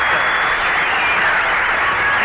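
Studio audience applause at a radio show broadcast from Twenty Nine Palms Naval Air Station, a dense steady wash of clapping filling the whole short stretch at even loudness with no voices over it.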